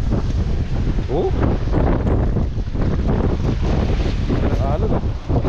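A strong sea wind roars and buffets the microphone throughout, steady and loud, with people talking faintly underneath.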